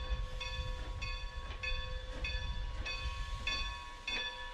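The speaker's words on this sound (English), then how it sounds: "a new generation of railroaders ride the rails in the cab of a locomotive built more than 80 years ago" A 1925 Philadelphia-built Lancaster and Chester 2-8-0 steam locomotive, number 40, runs with a steady low rumble and a sustained whistle-like tone, punctuated by rhythmic clanks roughly every half second.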